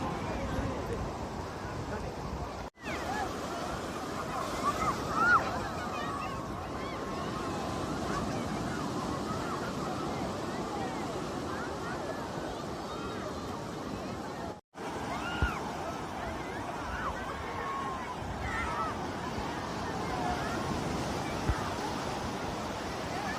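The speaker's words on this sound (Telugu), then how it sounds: "ఈరోజు కొత్తగూడూరు బీచ్ కలకలలాడుతూ ఉంది." Busy Sunday crowd at Kotthakodur beach: steady surf and wind roar under a constant murmur of many voices, broken by two brief dropouts.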